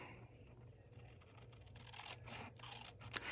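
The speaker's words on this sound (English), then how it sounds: "A lot easier to cut it when it's actually holding on to the envelope flap." Scissors snip through a paper envelope flap in a quiet crafting setting, with a few soft cutting and scraping sounds close by that grow slightly busier toward the end.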